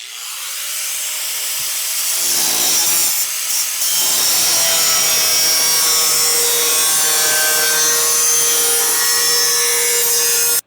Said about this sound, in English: I want to lightly score this with my cutoff wheel on this side of the tape.